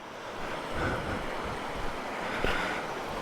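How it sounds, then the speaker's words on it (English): A mountain creek in Australia's Snowy Mountains rushes past, a broad, continuous wash of flowing water mixed with some wind buffeting. "I did not know there was a creek here."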